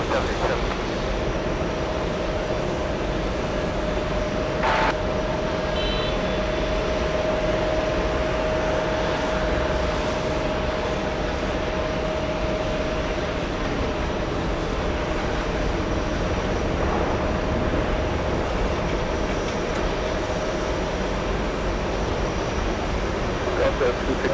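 A Boeing 737 takes off from runway 22 right at JFK, a broad, steady jet roar filling the whole stretch at a distance, with a thin sustained whine running through the middle of it.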